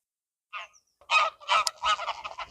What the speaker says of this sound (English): And everywhere you look, geese.